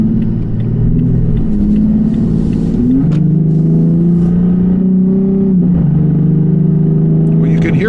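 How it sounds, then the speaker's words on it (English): A Toyota Tacoma fitted with a Pedal Commander pulling away hard from a stop, its engine revving up loud and close with a clear upshift and pitch drop midway, then climbing again. "Hear me hitting the gas"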